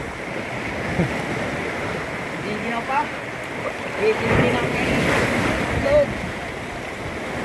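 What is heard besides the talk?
ocean waves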